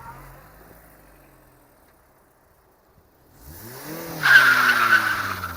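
A VW Lupo revs up from near silence and its spinning front tire squeals loudly through a one-wheel burnout, rising pitch and growing louder, with no talking.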